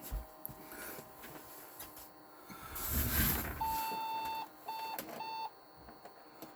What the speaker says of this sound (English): Beeping, that's a good sound.